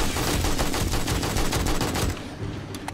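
Rapid automatic gunfire from the zombie survival game 7 Days to Die during a horde night, a dense stream of loud close shots for about two seconds, then a brief pause and a few scattered single shots.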